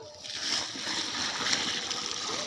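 Water splashes and trickles steadily into a cooking pot after salt has been added, a close, continuous pouring sound with a faint hiss throughout.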